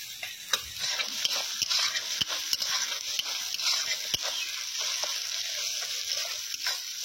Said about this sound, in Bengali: পেঁয়াজগুলো হালকা ভাজা হয়ে গেছে